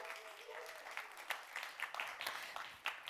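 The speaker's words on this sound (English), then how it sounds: "Please welcome her with a warm applause" Audience applause welcoming a panel host onto the stage at a music convention, a steady wash of clapping with a few sharper claps rising above it, moderately distant and fairly quiet.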